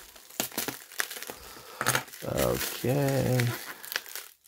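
Gift box packaging holding vintage celluloid fountain pen boxes is cut open, with close crinkling and crumpling of wrapping material between brief bits of talk.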